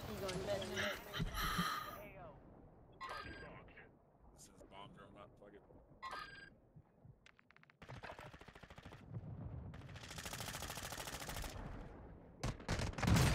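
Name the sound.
pistol gunfire in a video game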